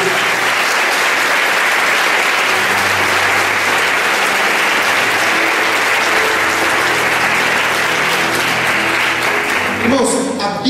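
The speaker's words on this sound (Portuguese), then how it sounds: "Uma salva de palmas a Jesus." A church congregation claps for Jesus in long, dense, loud applause that holds steady for about ten seconds, with voices and low tones faintly mixed in before it thins at the end.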